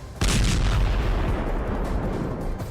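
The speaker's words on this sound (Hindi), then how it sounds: "धमाके की आवाज, आग की लपटें आप साफ देख सकते हैं।" A heavy explosion from a Russian Su-34 fighter jet airstrike in Ukraine hits suddenly as a loud, deep boom, then rolls on as a sustained rumble for a couple of seconds. No voices are heard.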